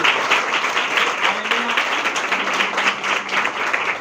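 A Sunday church meeting audience applauds, steady dense clapping filling the room for several seconds, with a faint voice briefly audible underneath.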